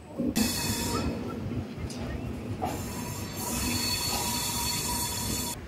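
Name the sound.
Dadar superfast express train leaving Coimbatore station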